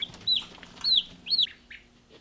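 Cornish Cross meat chickens on pasture give three clear, high chirping clucks in quick succession, close and distinct over a quiet outdoor background.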